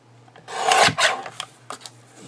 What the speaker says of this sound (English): This side is crooked. So let us give it a little trimmy trim.